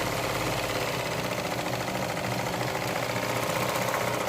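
A steady mechanical whir of a sewing machine stitching a seam on a fabric face mask, running continuously with a fast, even stitching rhythm and no voices.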